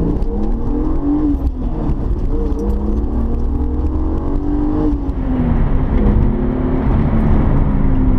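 A 1999 BMW E36 M3 on a road drive, its engine revving and exhaust note rising and falling through gears, loud and close with a steady whir underneath.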